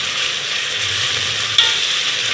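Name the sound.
onions sautéing in a pan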